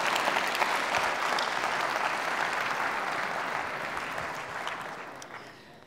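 Sustained applause from a lecture audience welcoming a speaker, a dense wash of many hands clapping at steady loudness that gradually tapers off toward the end.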